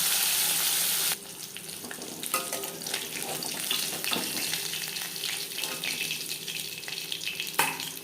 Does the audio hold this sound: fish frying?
yes